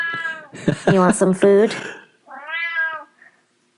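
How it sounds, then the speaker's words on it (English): A cat meows repeatedly for food, a run of loud, close, drawn-out cries followed by a shorter one after a pause, with a person speaking to it in between. "He's not going to stop meowing."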